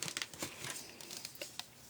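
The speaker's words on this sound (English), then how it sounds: "let's use our paper trimmer" A paper trimmer slices through patterned designer paper with crisp, close crinkling and scraping, a series of quick irregular rasps over about two seconds, no voices.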